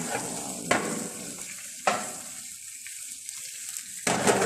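Chicken for Arabic maglie rice frying in a pan, already burnt on one side: a steady soft sizzle with a few sharp clanks of stirring or turning, close and alone without talk.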